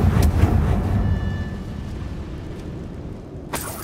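A Confringo fire spell in the video game Hogwarts Legacy detonates as a loud, deep rumbling boom that fades slowly over several seconds, followed near the end by a short sharp crack.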